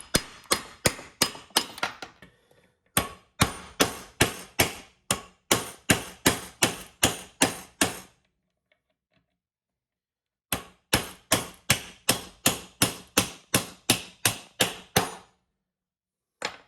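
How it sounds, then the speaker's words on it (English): A hammer taps a seized bearing out during a 2000 Honda CR125R engine rebuild, with sharp metallic blows in steady rapid runs, a short gap near two seconds and a long silent pause mid-way before another even series. "I'm gonna put the nut back on it and just gently tap it out of the bearing."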